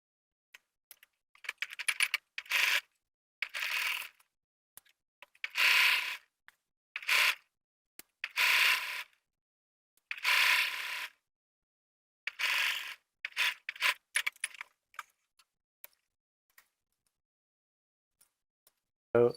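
Sewing machine stitching straight through a fly shield, pants fabric and zipper in bursts of a second or so, separated by short pauses, close and moderately loud with no talking.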